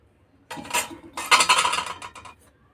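Spoon stirring lemon pickle with oil and chilli in a bowl, two close bursts of clinking and scraping of metal against the container, then quiet.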